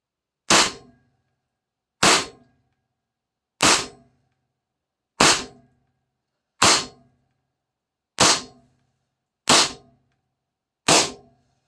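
A Pistelle x68 CO2 pistol fires eight sharp, loud cracks, evenly spaced about a second and a half apart, each followed by a short metallic ring and then silence.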